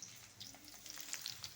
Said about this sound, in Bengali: ঢ্যাঁড়সটা একটু ভাজা ভাজা করে নেব।